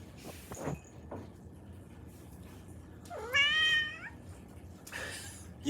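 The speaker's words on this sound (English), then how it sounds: "So I have cats, and there goes one through the screen." A house cat lets out one clear, drawn-out meow partway through, fairly close, over a quiet room with some faint knocks and rustling before and after.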